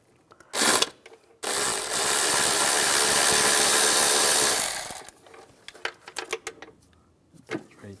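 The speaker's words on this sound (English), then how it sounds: "You're going to use a T30 socket to take those bolts out." A T30 Torx socket on a power tool backs out bracket bolts on a 2004-2010 BMW X3 during a starter replacement; a short burst is followed by a long, loud whirring run, then scattered clinks and taps of loose metal.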